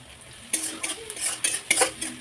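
Spinach and onion stirred in a frying pan: irregular scraping strokes of a utensil against the pan over a light, low sizzle, with no voices.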